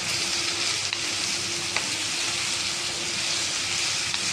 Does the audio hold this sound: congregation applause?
no